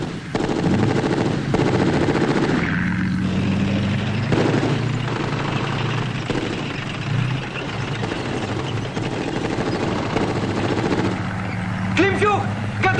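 Machine guns fire in sustained, rattling bursts during a 1975 Soviet war film battle scene, with dense gunfire and a droning engine in the background while voices shout over the noise.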